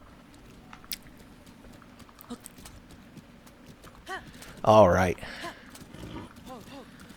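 Hoofbeats of a galloping horse patter steadily in Zelda: Breath of the Wild, fairly close, with a short spoken word and louder game noise breaking in midway.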